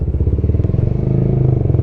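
Honda CBR150R motorcycle fitted with an RX8 aftermarket exhaust, idling and running steadily up close with a deep, slightly bassy, pulsing burble that holds constant throughout.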